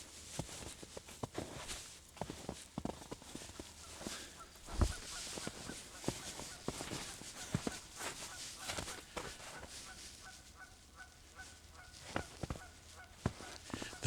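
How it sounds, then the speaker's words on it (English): Trumpeter swans honking from the far side of a lake at dusk, a series of distant, faint, repeated nasal honks spread over a quiet outdoor background with scattered clicks. "The trumpeter swans are hanging out on the other side of the lake tonight."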